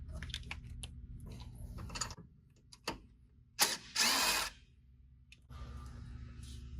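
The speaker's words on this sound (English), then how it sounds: "to remove a couple of the bolts that hold this bracket and this lower one on." A ratchet removing bolts from a bumper bracket during a 2022+ Toyota Tundra front bumper installation, close bursts of rapid ratcheting clicks separated by pauses and a few louder metallic clanks.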